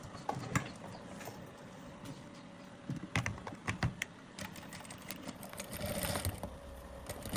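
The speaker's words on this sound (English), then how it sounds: "So next is to sew." A sewing machine stitches a zipper into a turtleneck top, producing a quiet, uneven mechanical clatter with rapid ticking bursts that sounds fairly close.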